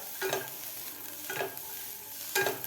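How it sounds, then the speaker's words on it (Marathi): Cluster beans roasting in a dry pan give three distinct scraping stirs at a steady pace over a quiet, low sizzle. No voices. "त्याच पॅनमध्ये आपल्याला हे गवार भाजून घ्यायचे आहे"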